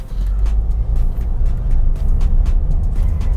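Toyota iQ 2009 with a 1000 cc three-cylinder engine pulling away under acceleration, a steady low rumbling drone heard from inside the car, fairly loud and without talk.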